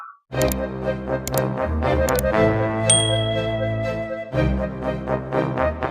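A bright chiming notification bell, the subscribe sound effect, rings in a quick run of metallic dings over a sustained musical tone, loud and up front with no speech.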